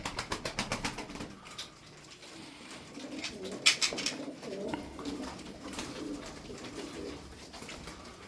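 Turkish tumbler pigeons coo in a loft, with soft repeated coos and rustling, and a brief burst of wing flapping early on, all at moderate distance and fairly quiet.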